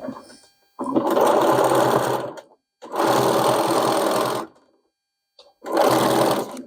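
Sewing machine stitching across pressed-open seams of a heavy sherpa-lined coat, three loud close bursts of fast whirring stitching separated by short silent pauses.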